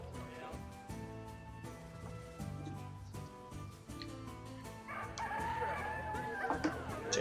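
Rooster crowing and chickens clucking in the video game Yono and the Celestial Elephants, over a steady musical background, with a layered game-like soundtrack continuing throughout.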